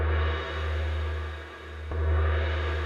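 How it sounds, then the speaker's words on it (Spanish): Synthesized gong from FL Studio's Ogun synth: a deep, humming metallic tone that sustains and swells, with a second strike partway through renewing the ring. "ahí es un sonido de un gong"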